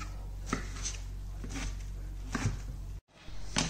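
Blanched spinach chopped with a knife on a cutting board in a home kitchen: a few sparse, soft knife taps at irregular intervals, quiet and close, with no talking.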